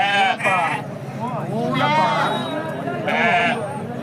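Young sheep or goats bleating at a livestock market, several loud wavering cries close by in quick succession, with people talking in the background.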